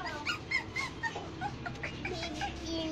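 Poodle whimpering and yipping in short high cries while receiving a vaccination at home, close by, with people talking quietly in the background.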